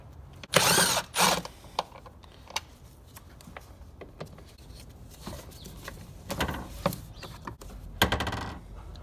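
Screws being backed out of the lid on a cold air intake box for a 2014-2018 Silverado/Sierra, with a few loud metallic clinks and rattles early, then quieter tool clicks and handling noises, no talking.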